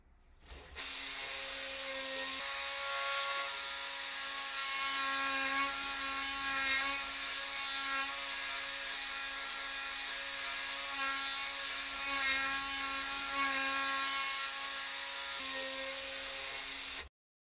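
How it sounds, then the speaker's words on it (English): Powered surgical saw cutting bony prominences from the plantar side of the foot bones during Charcot foot corrective surgery, a steady high-pitched whine that runs continuously for most of the span after a brief quiet start. "The saw is used to remove these bony prominences from the plantar aspect"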